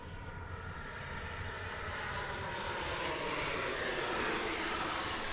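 An FMS F-86 model jet flying with flaps down at about half throttle gives a steady, fairly distant whooshing drone that swells slightly in loudness, with no voices over it.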